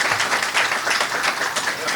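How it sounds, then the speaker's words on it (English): Polite applause from the audience at a chapter meeting, a steady dense wash of many hands clapping at moderate volume that fills the whole moment without a clear break. "What a polite applause"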